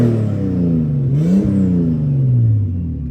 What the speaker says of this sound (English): Go ahead and give it some gas.